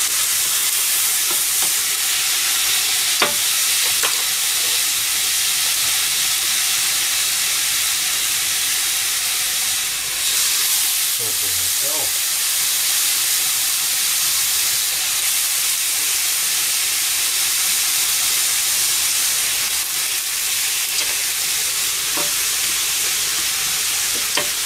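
Oil and green onions stir-fry in a pan, giving a steady, loud hiss and sizzle throughout with scattered light scraping taps from stirring.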